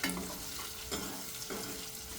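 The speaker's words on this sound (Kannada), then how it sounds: "ಈ ಥರ ಒಂದು ಸ್ವಲ್ಪನೇ ಫ್ರೈ ಆಗಬೇಕು" Onions fry gently in oil in a pan for a stuffed capsicum curry, a soft steady sizzle broken by a couple of stirring scrapes.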